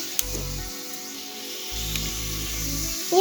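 Onions frying in hot oil for a rice dish, a steady soft sizzle with low bubbling bursts that come and go, close and fairly quiet.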